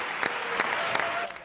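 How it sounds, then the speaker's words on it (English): Audience gives a round of applause for staff at the end of a television news show, a steady burst of clapping with a few sharper claps, then fading out. "give a round of applause for our incredible staff"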